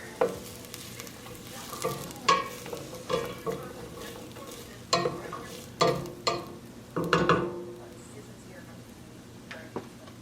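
Vegetables softening in a pot of soup made from a chopped salad kit, stirred now and then with a utensil; repeated scraping and clinking strokes over a low, steady simmer, close and moderately loud, with no talk.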